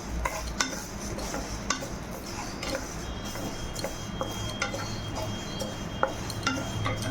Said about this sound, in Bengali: মুগ ডালটা দেখো ফ্রাই প্যানটা দিয়ে ভেজে নিচ্ছি